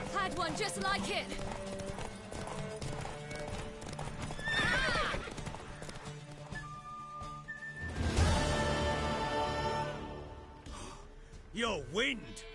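Horse hooves clip-clop and a horse neighs and whinnies in The Witcher 3: Wild Hunt game, with voices speaking over the steady trotting and a loud whinny near the end.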